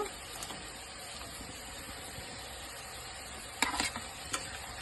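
Paneer goes into sautéed spinach paste in a pan over a low, continuous sizzle, with a few brief clinks and stirring scrapes near the end.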